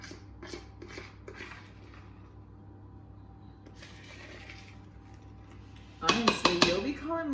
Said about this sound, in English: Okay, so I've got this. And I'm just gonna mix it in.